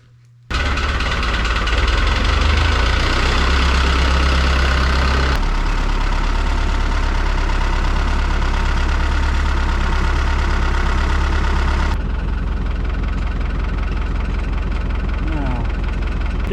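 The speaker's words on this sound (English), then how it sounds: "We're gonna hook this tractor up to the blower." A farm tractor idles steadily in winter snow on a Manitoba farm, its loud, continuous low rumble running unbroken throughout and dropping slightly in level partway through.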